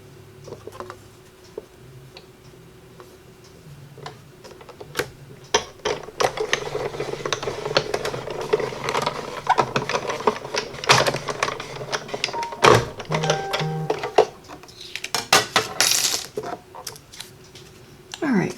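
Scissors snipping and paper rustling while cutting scraps of cardstock for a handmade herringbone card, a busy run of small clicks and crisp cuts at close range with no talking.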